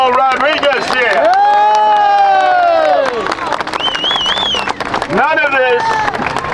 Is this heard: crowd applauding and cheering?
yes